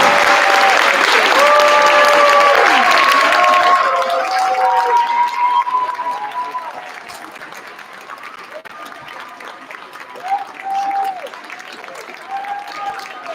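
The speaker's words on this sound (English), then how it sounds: "let's give them a round of applause as they come on in" Loud applause and cheering from an audience at a school concert as first and second graders file onto the stage, fading into scattered claps with chatter and children's voices rising through it.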